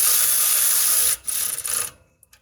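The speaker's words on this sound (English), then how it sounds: "I'm tightening these bolts here that hold up the front of the" A ratchet wrench or tool tightening bolts that hold up the front of a C5 Corvette H-pipe, a loud close buzzing whir that cuts out briefly, resumes in short uneven bursts, then stops.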